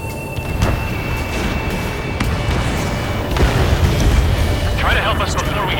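Missile explosion during an Ace Combat 7 air combat mission, a heavy rumbling blast layered over continuous engine roar, loud and close, with brief radio chatter sounding in the mix.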